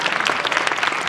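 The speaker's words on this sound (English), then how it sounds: "Let's give them a round of applause." An audience claps steadily for event sponsors during welcoming remarks, a dense, even patter of many hands held at a constant level from start to finish.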